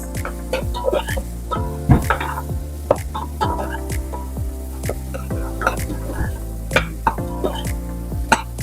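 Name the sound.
onions sautéing with browned garlic in a pan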